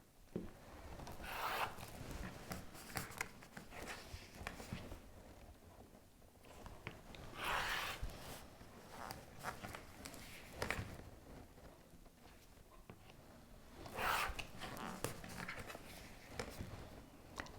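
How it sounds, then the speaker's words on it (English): Scissors or a cutter slice through half-square-triangle paper and fabric along marked lines, making faint rasping, rubbing strokes in repeated bursts with soft handling noises between them. "you're going to cut on all of the solid lines"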